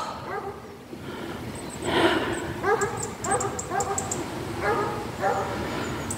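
Several short bursts of Belgian Shepherd barking and yipping, moderately close, repeated in clusters over steady outdoor background noise by a river with faint birdsong.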